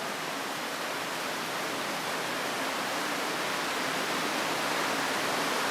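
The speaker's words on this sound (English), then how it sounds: "Underneath the railway station now, just at one of the little waterfalls" A small waterfall under Sheffield's Midland railway station gives a steady, even rush of falling water. It is continuous and moderately loud, with no voices.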